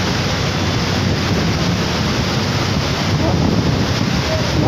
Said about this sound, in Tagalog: Ayan na siya, lakas ng hangin.